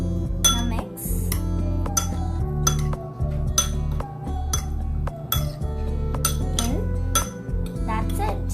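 Avocado salad being mixed in a bowl, repeated close clinks and scrapes of a utensil against the dish in an irregular rhythm, with talking in the background.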